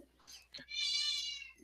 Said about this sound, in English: it's my cat Thumper making himself known